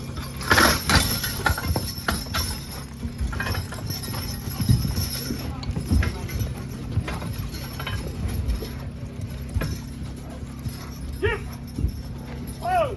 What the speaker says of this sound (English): That horse pulls hard right there.